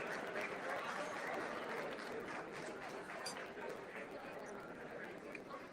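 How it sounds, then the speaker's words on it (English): An audience at an ethnic press and media council awards ceremony in Canada claps steadily for award winner Isa Melo as she comes up, the applause softening slightly toward the end with faint chatter beneath. "Let's give a round of applause to Isa while she comes up."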